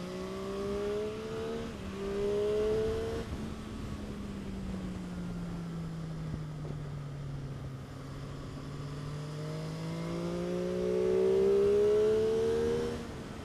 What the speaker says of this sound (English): watch the line for the Ducati into the corner